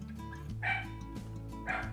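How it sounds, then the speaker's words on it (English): A frightened pet dog barks and yips indoors in a few short bursts, fairly faint and in the background, with no talking. "That was my dog."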